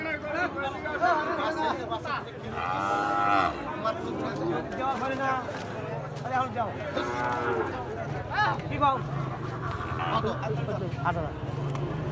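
Sahiwal cattle calves at a livestock market in Bangladesh moo loudly several times, long low calls rising over a constant background of crowd chatter and talking voices.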